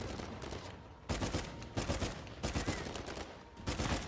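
Video game gunfire rattles in rapid automatic bursts, loud and close, in several clustered volleys separated by short gaps, with no speech.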